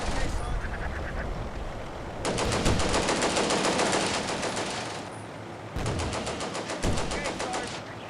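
Rapid bursts of machine gun fire in the World War II tactical game Combat Mission: Beyond Overlord, loud, sustained rattling volleys that start and stop in several long strings, with brief pauses between them.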